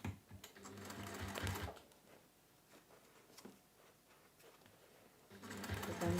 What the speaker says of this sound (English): But then sew straight again.